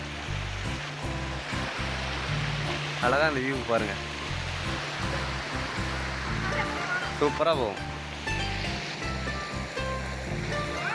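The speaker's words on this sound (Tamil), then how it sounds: "ஆறு மாரி போகுது பாருங்கள் ஏரியிலேருந்து" Water flows steadily out of a large lake like a river, a continuous rushing wash under loud talk and some chatter throughout.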